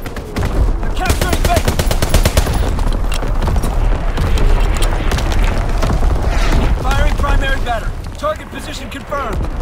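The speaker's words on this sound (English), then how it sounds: "Fighter pilot inbound. Strafing the target." Strafing-run gunfire from Call of Duty: WWII on the Shipment 1944 map, heard as loud continuous bursts and booms packed densely through the scene, with game voice lines and other sounds mixed in.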